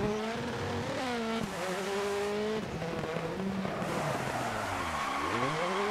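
A rally car in the Dirt Rally racing game revs hard and skids under a heavy handbrake, engine tones sweeping up and down beneath continuous tire scrubbing and gravel noise, loud and close throughout.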